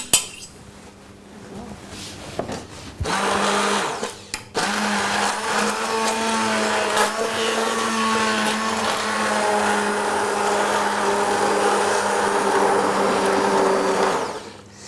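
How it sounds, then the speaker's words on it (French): A blender purées cooked food in a steady, loud whir after a few opening knocks and clatters, its motor tone holding constant for about ten seconds before stopping near the end. "Donc on mixe, on laisse aucun morceau, tu mixes le tout."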